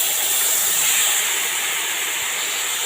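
Boiled, cold-rinsed pasta dropped into a hot pan with vegetables, giving a loud, steady hiss of sizzling that holds throughout.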